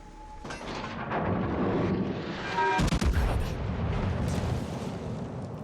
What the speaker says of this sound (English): he's firing his guns and disappears as he's firing them